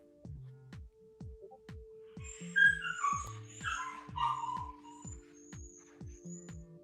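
A dog whimpers and yips in high, wavering cries over a steady background hum and a regular ticking pulse, moderately loud and close.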